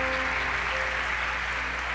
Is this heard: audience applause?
yes